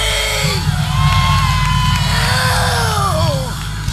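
A church congregation screams and shouts together, a dense, loud mass of voices with rising and falling whoops and yells sustained throughout.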